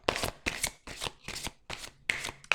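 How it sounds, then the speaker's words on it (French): Angel oracle cards shuffled by hand, six quick riffling bursts in a steady rhythm, close and crisp with short gaps between each. "Et je vais vous tirer 3 cartes pour ça."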